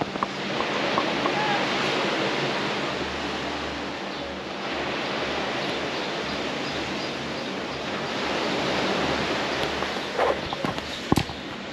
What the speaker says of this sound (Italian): ci sistemiamo con questo rumore del mare che ci rilassa